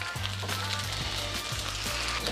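Chicken fried rice frying in a pan as oyster sauce and soy sauce go in, a steady loud sizzle with occasional stirring scrapes, close up.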